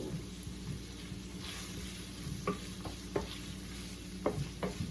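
Cream of mushroom being stirred into a Filipino-style carbonara sauce, giving a steady low simmering sizzle with a few soft scraping clicks of the spoon against the pan, close and fairly quiet, with no talking.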